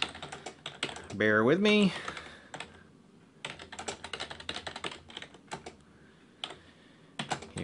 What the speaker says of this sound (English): give me a moment to type in this latest access list command